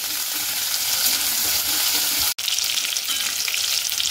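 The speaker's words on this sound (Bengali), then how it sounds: "আদাগুলো দিয়ে দিচ্ছি, কারণ ভালো করে কষানো হবে" Crushed ginger sizzles and fries steadily in a hot pan while being cooked down for a pointed gourd and milk dish, a continuous loud crackling hiss broken by one brief dropout.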